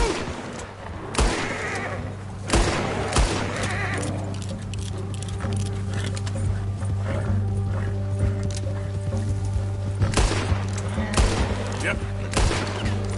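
Gunfight in Red Dead Redemption, with repeated loud gunshots cracking out in scattered bursts over horse hooves and whinnies, close at hand, while someone speaks briefly.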